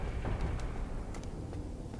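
A boulder rolls in Sen's Fortress in Dark Souls, a continuous low rumble with a few short sharp clanks on top, steady and fairly loud, with no talking.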